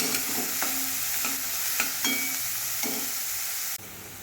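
Onion, green chilli and curry leaves fry in hot oil for a tomato chutney. A steady sizzle runs throughout, with periodic stirring scrapes, and it stops abruptly near the end.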